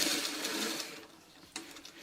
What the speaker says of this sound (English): we're just going to sew it along here